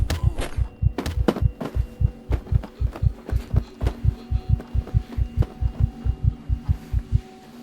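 Heartbeat sound effect for a dramatic reading of The Tell-Tale Heart, a steady run of deep double thumps about three per second, loud and close, continuing without speech before stopping abruptly.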